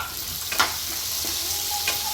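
Tomatoes go into a pan of hot sizzling onions while making upma, giving a steady close frying hiss with a few soft stirring scrapes and clicks, and no voices.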